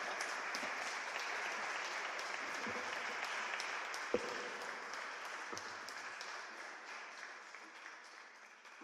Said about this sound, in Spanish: Muchas gracias por los aplausos y por la paciencia